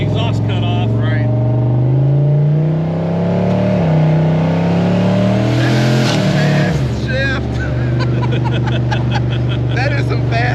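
Oldsmobile Cutlass muscle car with its exhaust cut off, loud and close, accelerating hard through several quick gear changes, the engine note rising then dropping at each shift, with voices talking over it.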